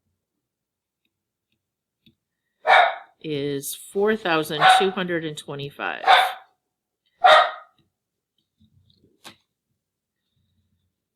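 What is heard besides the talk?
dogs barking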